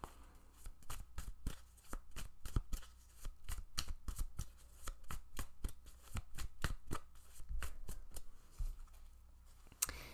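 Tarot cards are shuffled by hand in a quiet room, a run of crisp, rapid riffling snaps repeating steadily for several seconds, close and fairly soft.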